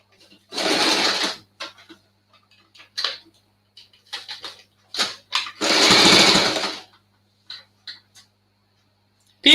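A Janome 500e embroidery machine stitches a hooded towel in two long, loud bursts, separated by shorter clattering runs and pauses, with no talk.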